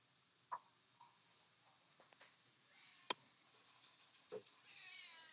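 Cat meowing indoors, a few short, faint, separated mews scattered across a quiet room with low background hiss.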